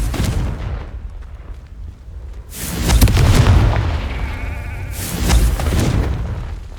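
Fire-spell explosions in the video game Hogwarts Legacy: heavy booming blasts around three and five seconds over a steady low rumble, loud and close, with no talking.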